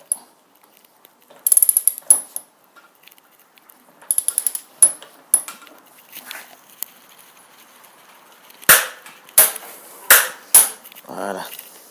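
A torque wrench set to 230 Nm tightens a motorcycle's rear wheel, giving close, sharp metallic ratcheting clicks in uneven clusters separated by quiet gaps.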